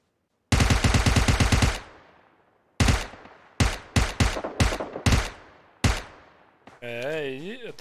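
Automatic gunfire in the mobile game PUBG Mobile, played on a Moto G5 Plus phone: a loud rapid burst followed by several separate shots and short volleys, ending with a wavering game sound.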